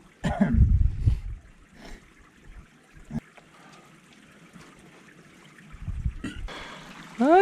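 Clear spring water trickling and splashing at Tub Spring on a trail course, a soft steady stream with low splashes near the start and again near the end, where a brief bottle-like gurgle rises.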